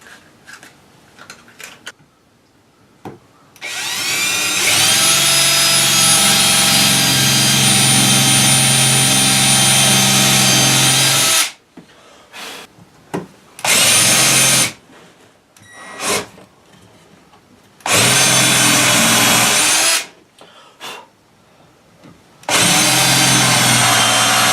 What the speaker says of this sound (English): Once I get the screws ran in, I'll back that screw out over here